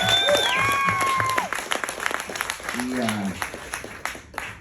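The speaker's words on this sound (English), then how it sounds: "But I want to give one more big round of applause for Bobby, because Bobby crushed it." A comedy club crowd applauds with dense, steady clapping, accompanied by scattered whoops and cheers, gradually thinning out toward the end.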